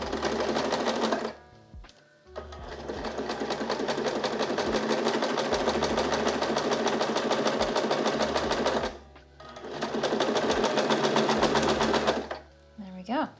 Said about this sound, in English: I'm butting the edge of this fabric up with the edge of my foot right here, and I'm just gonna follow along